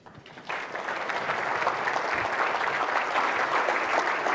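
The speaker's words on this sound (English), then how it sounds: "could I ask you, with your applause," Audience applause at a speech welcoming the former Prime Minister of Sweden to the stage. It starts after a brief quiet moment, then a dense, steady clapping from a sizeable crowd holds at an even level throughout.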